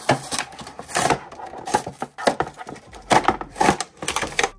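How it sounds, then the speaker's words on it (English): A Barbie chef doll is pulled free of its packaging, with close, irregular crackling, snapping and scraping of cardboard and plastic in dense bursts throughout, with no talking. "Let's take her out of the packaging though and get a closer look at her."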